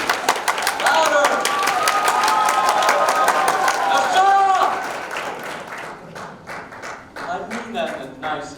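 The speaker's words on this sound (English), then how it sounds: "This is the point where you applaud." An audience applauds at a stage performance of Clue, dense steady clapping with some cheering that thins into scattered claps, with a voice speaking over the tail.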